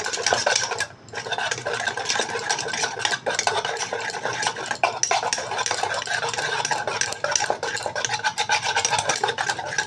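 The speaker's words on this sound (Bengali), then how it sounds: "আমি অনেকক্ষণ ধরে ফেটাচ্ছি, দেখো এরকম হয়েছে। আর একটু ফেটিয়ে দেখো, যত ফেটাবে তত ভালো হবে।" Batter for cauliflower manchurian being whisked steadily in a bowl, a continuous scraping, rasping rhythm of utensil against the sides, close and loud without talk.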